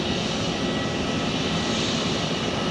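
Steady, loud drone of an airplane engine at Tucson airport, a continuous broadband roar holding level throughout with no voices.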